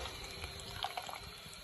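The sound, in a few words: pouring water into kadhi pakora pot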